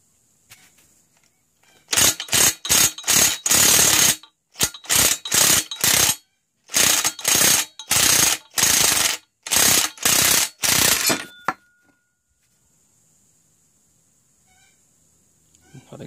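A crankcase splitter tool is cranked to push the crankshaft out of an engine case, producing loud, rapid ratcheting clicks in several bursts of a few seconds each, then near silence.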